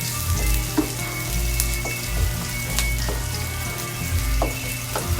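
Onion hits hot oil in a pan and sizzles loudly and continuously, with a few clinks and stirring scrapes against the cookware close by.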